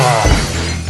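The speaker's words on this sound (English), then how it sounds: "I tend to lead towards the glass shattering. You get sound effects." A loud, dense burst of glass shattering fills the moment as a sound effect during a high school wrestling broadcast. It gives a harsh crash with a bright, noisy spray of breaking debris that lasts under a second.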